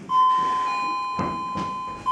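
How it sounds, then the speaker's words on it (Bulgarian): An electronic doorbell or telephone rings with a steady, clear, high tone that holds through the moment and briefly sounds again at the end, with faint rustling underneath. "Звъни се."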